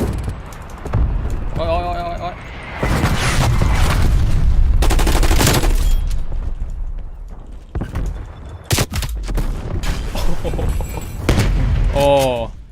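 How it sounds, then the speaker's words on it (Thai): Loud burst-mode gunfire from a classic Galil rifle in Call of Duty Warzone, with sharp clustered volleys and booming explosions over several seconds, mixed with excited talking. "ปืนเบิร์ดโหมดนี่มันน่ากลัวจริงเลย ยิงทีหัวหลุด"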